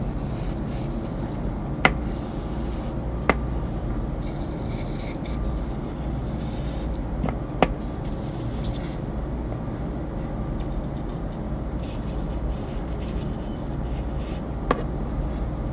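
Steady aerosol spraying of carburetor cleaner through the ports of a Mikuni carburetor hisses for the full length, close and fairly loud, broken by a few sharp clicks and taps; no one speaks.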